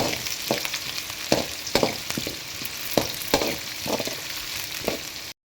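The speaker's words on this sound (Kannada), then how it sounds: "ನೆಕ್ಸ್ಟು ಕಟ್ ಮಾಡಿಟ್ಟಿರೋಂಥ ಈರುಳ್ಳಿನ ಸೇರಿಸಿ ಸ್ವಲ್ಪ ಟೈಮ್ ಚೆನ್ನಾಗಿ ಫ್ರೈ ಮಾಡ್ಕೊಳ್ಳಿ ಇದನ್ನು" Chopped onions with curry leaves fry in a pan for a home-cooked pepper chicken, giving a steady close sizzle broken by several sharp scraping stirs of a spatula.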